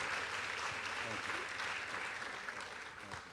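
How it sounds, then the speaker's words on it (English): Applause from an audience after a film screening about healthcare in Grand Rapids, a dense, steady wash of many hands clapping throughout, fading slightly toward the end, with voices mixed in. "Can we have another round of applause for a fantastic night,"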